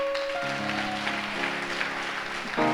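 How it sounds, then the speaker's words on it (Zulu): A church congregation claps together at a Sunday service, the broad patter of applause running under sustained keyboard chords that shift partway through. "Singamshayela ihlombe bazalwane"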